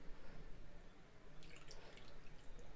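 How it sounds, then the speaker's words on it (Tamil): Water is added little by little to opputtu (poli) dough as it is mixed, giving faint, steady dripping and trickling over soft background noise, with no talk. "இப்போது கொஞ்சம் கொஞ்சமாக தண்ணி சேர்த்து பிணைய ஆரம்பிச்சிடலாம்"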